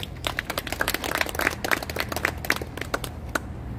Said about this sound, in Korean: 우리를 이곳에 부르신 하나님께 우리 영광의 박수 한번 올려드립시다